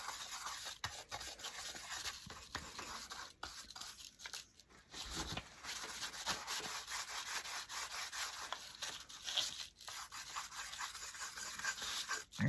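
A brush drags wax across a wooden door plate in repeated soft, scratchy strokes, close and fairly quiet, with brief pauses between passes.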